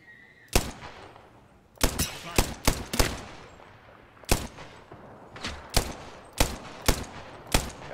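Gunfire in Apex Legends: about a dozen sharp, loud shots come in irregular bursts and singles, each a crisp crack with a short tail, over quiet game ambience.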